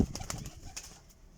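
Young pure Sialkoti Jansira pigeons coo close by, with a quick burst of soft calls at the start that trails off over a second or so; any wing flapping is faint.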